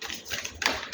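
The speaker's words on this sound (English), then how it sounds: "I will keep these cards back in the deck and keep shuffling." A deck of tarot cards being shuffled by hand, a quick, soft burst of papery flicks and taps lasting about a second, close and fairly quiet.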